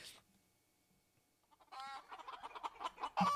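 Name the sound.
chickens clucking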